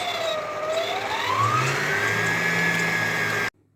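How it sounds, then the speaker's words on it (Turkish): An electric mixer whips egg whites for a birthday cake, a steady high whine that shifts pitch as it runs, continuous and close, then cuts off abruptly near the end. "Yumurta aklarını beyazlatıncaya kadar çırpıyoruz."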